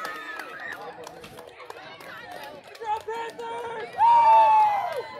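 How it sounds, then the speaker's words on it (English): Spectators at a Class A fastpitch softball district game shout and whoop amid crowd chatter, building to a loud, sustained falling cry near the end, with a voice talking through it. "You can hear the crowd go insane."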